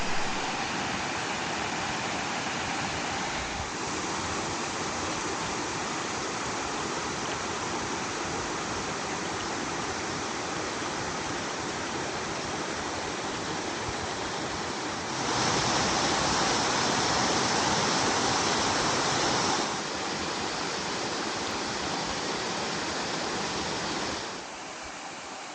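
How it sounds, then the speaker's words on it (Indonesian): Waterfall at Ciranganis Camp roaring steadily as loud, dense broadband rushing water heard close by, continuous throughout with a brief swell in intensity partway through, no voices. "cukup terdengar lumayan keras ya suara air terjun dari kafling ini"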